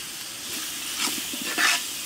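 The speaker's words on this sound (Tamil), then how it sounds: "800 g தக்காளி கட் பண்ணி வச்சுருக்கேன், போட்டுக்கிறேன். தக்காளி வதங்கட்டும்." Cut tomatoes, about 800 g, sauté in a hot pan for chicken biryani, giving a soft hissing sizzle with a few short stirring scrapes and brief bursts of louder frying.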